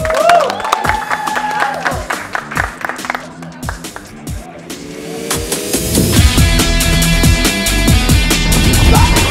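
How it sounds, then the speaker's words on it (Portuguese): A group claps rhythmically for a friend during a resistance challenge, then the sound swells into louder crowd noise with cheering. Voices and background music carry through the applause. "Uma salva de palmas para o nosso amigo"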